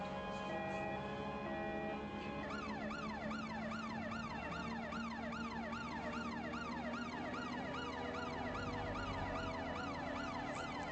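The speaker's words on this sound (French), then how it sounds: "ils en ont plutôt rien à foutre que les sirènes soient activées." A siren in the video game Watch Dogs: Legion wails in a rapid, repeating rise-and-fall pattern over a steady engine drone, synthetic-sounding and continuous throughout.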